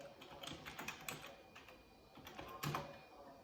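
Quiet keystrokes tap out a login password on a computer keyboard, a quick irregular run of light clicks ending in a firmer key press, with no speech.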